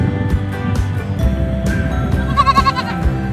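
A goat bleats repeatedly in a loud, close series of wavering cries, with farmyard bustle and faint voices in the background.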